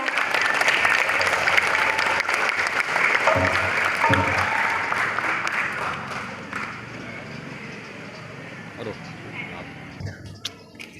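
An audience at a GenBI youth event in Indonesia claps in loud, sustained applause. The clapping eases gradually toward the end, and voices mix into the crowd noise.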